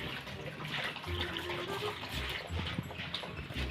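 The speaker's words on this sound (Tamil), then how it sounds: "சக்கையாக வருது, தண்ணி ஸ்லோவாக வருது," Water trickling and gurgling slowly out of a guppy breeding tank being drained during cleaning, a continuous soft splashing flow with bubbly bursts, close and unbroken.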